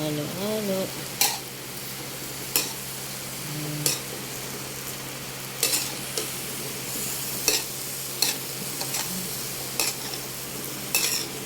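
Vegetables (chayote, carrot, cauliflower) stirred in a pan over a steady sizzle, with a utensil scraping and tapping at intervals of about a second and a half, close up and without talk.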